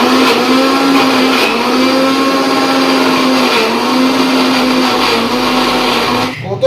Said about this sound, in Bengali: সো এখন এটাকে আমি মিক্সিতে দিয়ে জলদি পিষে নেব।